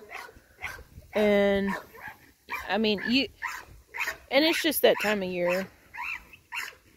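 A dog barks in short, sharp bursts a little way off on a farm with a livestock herd, under and between a person talking steadily nearby.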